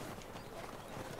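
Horses in a stable in The Last of Us Part 2: a brief, dense stretch of hoof clip-clops mixed with ambient noise and a faint voice, all fairly quiet.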